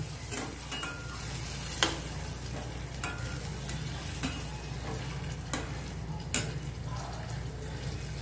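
Tomato puree and ginger garlic paste being stirred in a pan, a steady low sizzle with scraping spoon strokes and a few sharper clicks against the pan, close and continuous with no talking.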